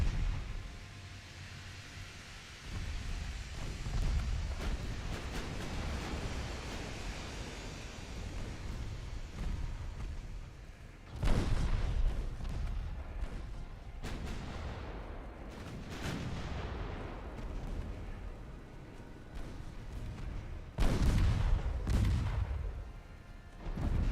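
Battleship guns fire and shells strike in the naval warfare game Ultimate Admiral Dreadnoughts: several heavy booming blasts with rumbling decays over a constant wind-and-sea wash, moderately loud and with no voices.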